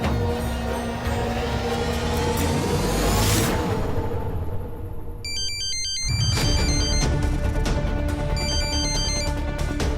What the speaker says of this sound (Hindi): तुम्हारा फोन कुछ ज्यादा नहीं बज रहा है?